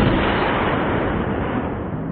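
A Benelli 12 gauge shotgun, a Limited Duck Edition, fires outdoors with a loud, sustained blast that fills the short stretch with no voices.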